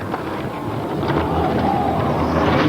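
Thunder from a storm over the Nordic Center during a muddy, rainy mountain bike race rolls as a low, sustained rumble mixed with rain and wind noise, growing slightly louder toward the end.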